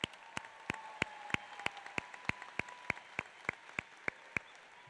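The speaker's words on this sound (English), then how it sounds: "Let's give our families a round of applause" A graduation audience applauds families at a Gateway High School ceremony. It comes through as faint, distant, evenly spaced claps, roughly three per second, over a soft hum with no talking.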